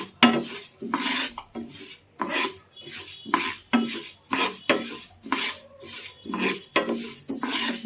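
Flax seeds dry-roasting in a pan are stirred with steady, rhythmic rasping strokes, roughly two per second, each a crisp scraping rattle of seeds against metal, fairly close and with no talking.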